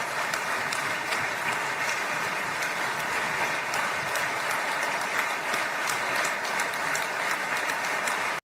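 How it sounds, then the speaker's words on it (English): Canned applause effect on a comedy show: dense, uniform clapping that holds at a constant level without swells or fades, sounding mechanical and repetitive, as if looped. "that sounds like some looped fucking clapter to me."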